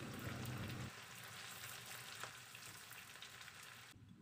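Chopped garlic and onions fry quietly in oil with a soft, constant sizzle and a few stirring scrapes. The sizzle drops off near the end.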